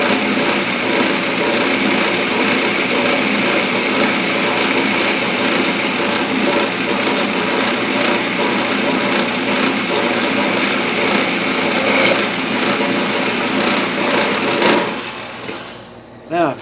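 A metal lathe cuts a thread relief on a steel arbor for DP20 gear cutters, a loud steady mechanical whine and hum with faint cutting chatter that drops off sharply near the end.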